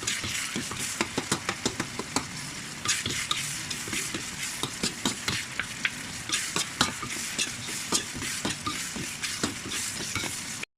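Fresh tomatoes fry into a kaldereta sauce in a pan, giving a steady dense sizzle broken by frequent sharp scraping strokes of a stirring utensil; close and continuous, with no one talking.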